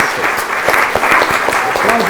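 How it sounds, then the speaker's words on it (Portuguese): Studio audience applauding at a live Brazilian talk show taping, a dense steady patter of many hands clapping throughout, with speech mixed in over the top. "aplaude o cara aí, pô"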